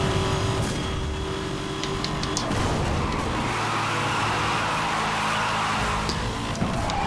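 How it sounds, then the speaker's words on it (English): A car drifts around a sharp turn in the racing game Need for Speed Hot Pursuit, its engine roaring steadily as the tyres slide and screech, a dense, constant mix of motor and road noise. "Now that was a good drift by me."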